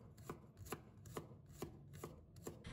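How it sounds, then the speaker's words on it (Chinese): Knife chopping garlic cloves into minced garlic on a cutting board, steady evenly spaced thuds about two per second, close but quiet. "然后切成蒜末"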